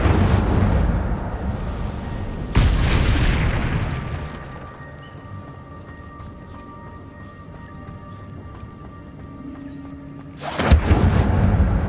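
Fiery spell blasts in the Hogwarts Legacy video game, with a loud booming burst at the start, a second strong blast near three seconds, then a quieter rumbling lull before another sharp eruption near the end.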